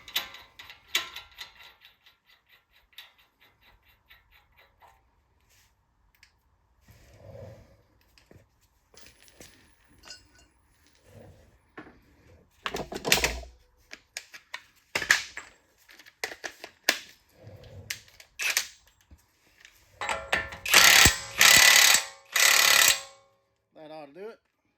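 Ratchet wrench clicking as a nut is tightened back on a Toyota 4Runner, Tacoma or FJ Cruiser driveline, with bursts of close, rapid mechanical ratcheting between quieter handling noises and pauses.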